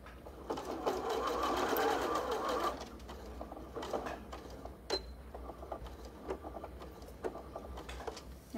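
A domestic sewing machine stitches fabric in a steady loud run for about three seconds, then continues in shorter, quieter bursts with small clicks and handling noises, with no talking.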